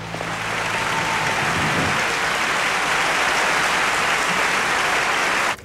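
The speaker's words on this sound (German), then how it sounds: "Das ist unser Applaus." Stage audience applause as performers are called back onto the stage, a loud, continuous roar of clapping that holds evenly for several seconds before cutting off abruptly.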